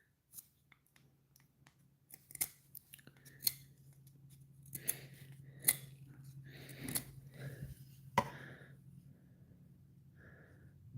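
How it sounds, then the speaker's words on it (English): Pencil sharpened by hand with a knife: a series of scattered dry scraping and shaving strokes, irregular and close, over a steady low background hum. "I've been sharpening my pencils here with my knives lately."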